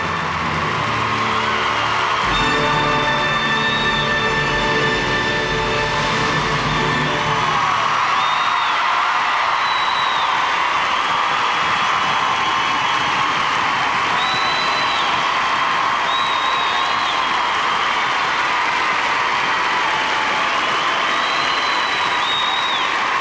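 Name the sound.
crowd standing ovation for Elvis Stojko's free skate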